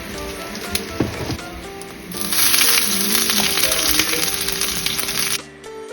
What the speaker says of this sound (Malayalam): കടുക് വറുത്തെടുക്കാം.